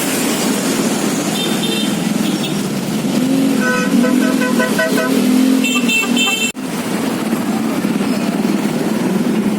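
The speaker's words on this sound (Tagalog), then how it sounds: "Mga ganitong oras dito sa may Quirino Highway, napaka-traffic na." Heavy traffic on Quirino Highway rumbles loudly and continuously as car horns toot in short repeated bursts, one higher-pitched honk sounding near the end of the honking run.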